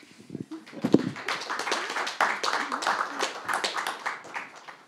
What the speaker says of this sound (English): now I would like to ask you to welcome our guests with a great round of applause